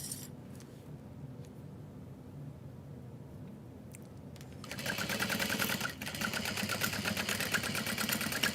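After a few quiet seconds of faint room noise, a sewing machine starts up and stitches along the curve of a tote bag, its fast needle chatter loud and close, briefly pausing before continuing.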